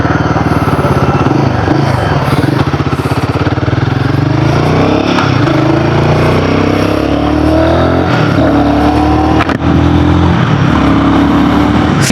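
2026 Royal Enfield Guerrilla 450 Apex motorcycle on a ride, its engine droning loud and continuous with steady rumbling and gear-linked rises and dips in pitch, heavy wind noise over the top.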